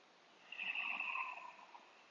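One slow, deep breath drawn during a yoga session, a soft airy rush that swells and fades over about a second, close and quiet with nothing else around it.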